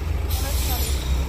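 A city bus pulls in at Varsity Lake Station, Gold Coast, with steady low engine rumble and a sudden hiss of air brakes partway through, close by and loud, over station background noise.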